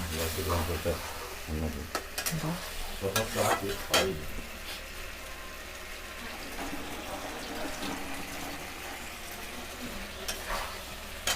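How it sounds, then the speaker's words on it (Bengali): Spice paste for a parshe fish curry is stirred and roasted in a pan, soft sizzling with scattered spatula scrapes and clatter, busier at first then settling into a quiet steady fry. "এই মশলাটা ঠিক 2 মিনিটের মতন আমরা ঢাকা দিয়ে কষিয়ে নেব"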